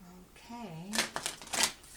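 Tarot cards being shuffled by hand, a few quick riffling bursts close to the microphone just after a voice speaks.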